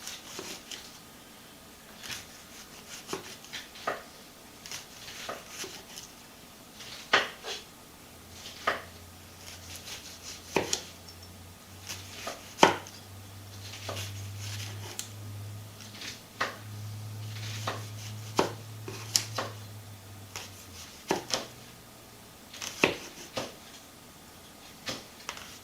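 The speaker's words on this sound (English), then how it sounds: "And you can slice it in any shape you want." Knife slicing fresh, vine-ripe cucumber into quarter-inch rounds on a cutting board, a steady run of sharp, close taps with a low hum running beneath part of it.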